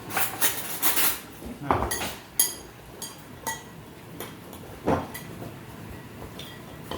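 A small spoon clinks against a bowl while mixing a bruschetta topping with lemon, giving a handful of light, irregular metallic taps and scrapes close by, with brief pauses between strokes.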